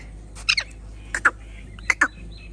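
A pet parrot kept as one of a pair at a rural farmstead squawks in three quick bursts of shrill, double-note calls, close and sharp against a quiet background.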